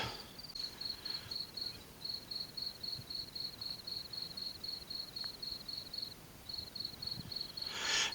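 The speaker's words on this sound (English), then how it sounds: "I got bugs and bats buzzing me" Insects chirp at night on a trail, a faint, rapid, pulsing trill that repeats steadily in regular bursts against a quiet background, with a few soft rustles.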